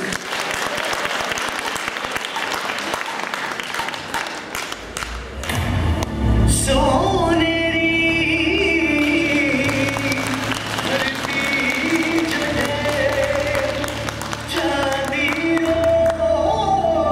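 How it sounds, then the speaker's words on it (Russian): Audience applauding a dancer at a Bollywood-themed show, with loud, dense clapping from a large crowd that continues as music with a voice swells in underneath, and occasional thumps and cheers. "Ваши аплодисменты, Елена Белова, город Новосибирск"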